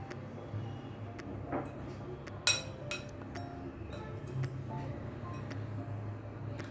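A spoon presses out small lumps in gulab jamun flour in a bowl: scattered light clinks and taps of metal against the bowl, one sharper knock partway through, quiet and close with no talk.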